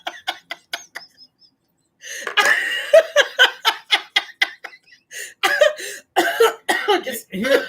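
Several sharp coughs burst out in a quick cluster, followed by a run of choppy coughing and laughing mixed with someone speaking.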